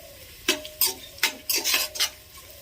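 Onions and green chillies in a pan for veg pulao, stirred in several short, distinct scraping bursts with faint sizzling between them, close and with no voices.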